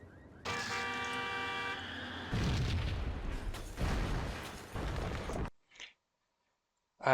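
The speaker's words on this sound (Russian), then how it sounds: "Дальше мы переключаемся на М79 и взрываем вот этих врагов." A run of loud, booming M79 grenade launcher blasts in quick succession in the video game Max Payne, preceded by a brief tonal horn-like sound, then a short pause and a final burst.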